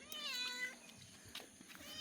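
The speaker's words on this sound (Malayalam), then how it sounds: "പൂച്ചക്ക് മീനാണല്ലോ കാര്യം." Cat meowing near a freshwater fish tank, drawn by the fish smell: one drawn-out, wavering meow up close, then faint background rustle.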